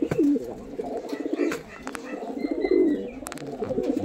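Madras pigeons coo in low, throaty warbles close by, with a few faint chirps and rustles mixed in and occasional distant background noise.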